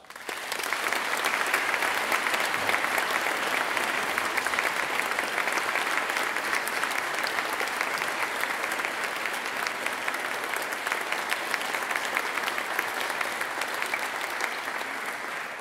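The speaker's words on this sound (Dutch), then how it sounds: "Geef hen een hartelijk applaus." A concert audience applauds an orchestra, with dense, steady clapping that stays loud and even for the whole stretch.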